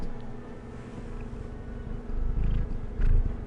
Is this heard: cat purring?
yes